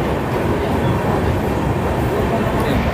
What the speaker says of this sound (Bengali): ট্রেন কিন্তু আমাদের বেশ দৌড়চ্ছে